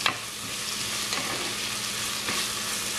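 Chopped onions sauté for a Sri Lankan crab curry, giving a steady, close hiss of frying in a hot pan with occasional scrapes and stirs. No voice is heard.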